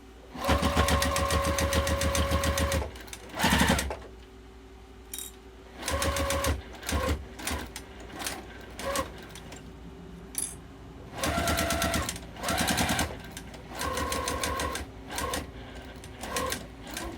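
A sewing machine back stitches the sides of a fabric wallet made from fat quarters, in short close bursts of whirring separated by brief pauses and clicks, several starts and stops across the span.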